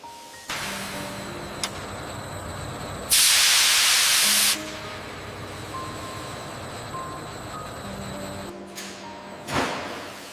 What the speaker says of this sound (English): Steam cooking softens the soybeans and prepared them for fermentation.